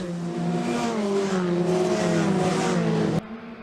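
Historic Formula Ford race cars at Oulton Park droning past together under acceleration, a loud continuous roar of several engines with shifting pitch, then cutting to quieter engine noise near the end.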